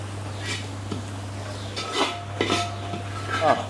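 Ground spices (chili, coriander, turmeric and garam masala powders) being roasted and stirred in a pan for a duck curry. Metal spoon scrapes and clinks come in short bursts over a faint sizzle and a steady low hum.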